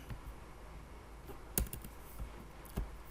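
Computer keyboard typing in a quiet room while entering an Excel formula, with sparse irregular key clicks and a couple of louder, sharper keystrokes standing out against a faint background hiss.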